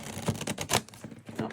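A tarot deck, the full-size Monstarot deck, gets a dealer shuffle on a slippery tabletop: a quick run of crisp, papery clicks and taps in short bursts, close by, with no voices.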